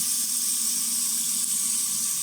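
Bathroom sink faucet turned on, with water running in a steady hiss, close and constant with no talking.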